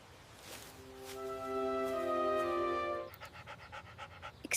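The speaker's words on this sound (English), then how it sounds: "Excuse me, is this your puppy?" A puppy pants close up in a long quick series of breaths, rising to a louder, steadier stretch before breaking into short choppy puffs near the end, with no talk.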